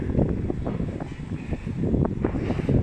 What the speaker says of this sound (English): the wind is excessive up here